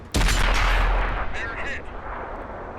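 A tank gun fires premium HEAT ammunition in World of Tanks on Xbox, giving a single loud, close cannon blast that cuts in suddenly. It is followed by a rumbling decay and faint metallic impact rattles.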